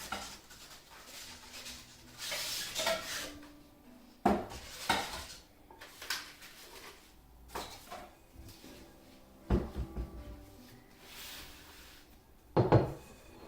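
A large bowl comes out of a kitchen cupboard while making Parsi kheema with ground beef: wooden cupboard and drawer thumps, clattering dishes and cutlery clinks in several separate bursts, moderately close, with no speech.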